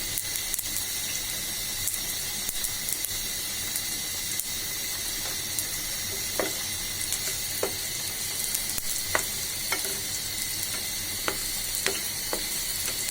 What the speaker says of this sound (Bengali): জিরা ফোড়ন দেওয়া হয়ে গেল